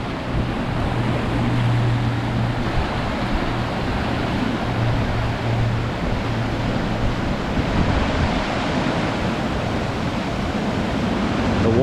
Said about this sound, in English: This might be the last set of waterfalls though. Looks like we got rapids down there